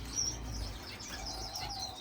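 Indoor bird room full of finches, with scattered high chirps and tweets repeating at a quiet, steady level over a low background hum.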